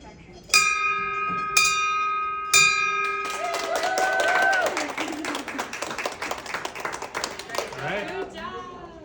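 Bell rung three times in slow succession, each strike bright and ringing out, followed by a burst of close clapping and applause, with people talking over it.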